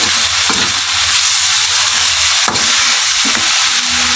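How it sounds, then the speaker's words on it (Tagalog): Dried fish mixture with dried fish powder and anchovies being stirred in a hot pan, a steady loud frying sizzle with scraping stirs of a spoon against the pan, no talking. "Haluin natin."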